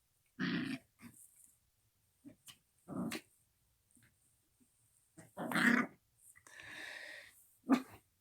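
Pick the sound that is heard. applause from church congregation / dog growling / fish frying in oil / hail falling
dog growling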